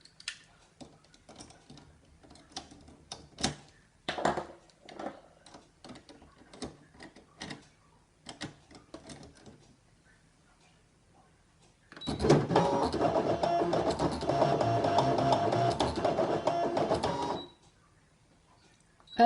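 A craft cutting machine draws with a black pen, starting at about twelve seconds as a steady mechanical whir that runs for roughly five seconds. Scattered clicks and light handling sounds come before it.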